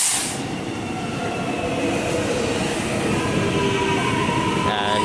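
Melbourne suburban train 209M rolls through Glenferrie station with a loud, continuous rail rumble and thin steady wheel whine, ending in a brief sharp squeal near the close; no one speaks.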